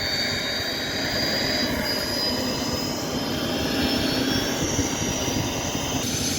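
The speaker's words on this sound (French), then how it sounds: "Voilà notre jet qui démarre." A jet aircraft engine starting up, a steady loud roar with a rising high-pitched whine running across the whole stretch, no voices.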